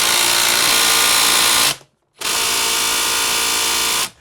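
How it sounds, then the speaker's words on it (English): A Bosch GDR 18V-160 cordless impact driver hammers a fastener tight, giving two loud sustained bursts of buzzing rattle split by a short silent pause, with no speech. "the impact drivers work not by just turning something continuously, it gets hammered around, and that's where it gets its torque from"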